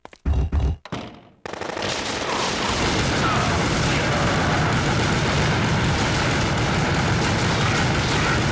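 Sustained, loud machine gun fire from slot-machine turrets in the video game Gungrave: Overdose, preceded by a few heavy bursts and booms, then a dense unbroken roar of gunfire.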